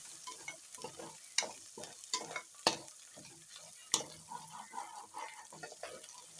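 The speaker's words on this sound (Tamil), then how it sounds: "இந்த மாதிரி நல்லா கொஞ்சம் பார்த்து ஃப்ரை பண்ணுங்க கிளறிக்கிட்டே இருக்கணும்" Masala for jeera samba mutton biryani stirred and fried in a pan: a steady sizzle broken by repeated scraping strokes of a spoon, close and fairly quiet, with a faint trickle of water and no voices.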